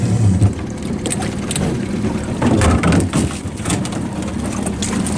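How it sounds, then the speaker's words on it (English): Small boat motor running steadily on Puget Sound while crabbing, a continuous low engine drone mixed with wind and water noise, loud and close throughout. "I had the motor going."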